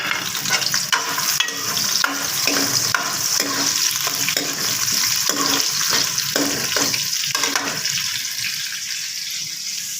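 Chopped onions frying in about two spoons of oil in a pan for aloo gobi give a steady, close sizzle with occasional stirring scrapes throughout, no voices.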